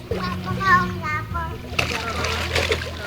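A child jumps into a swimming pool with a sudden splash partway through, followed by sloshing water, while someone speaks and voices talk nearby.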